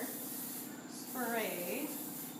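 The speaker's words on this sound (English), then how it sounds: "Final spray once you're happy with the results with a little more heavier" A single short hiss of hairspray sprayed onto hair in a salon, a soft steady spray close by with a voice speaking over it.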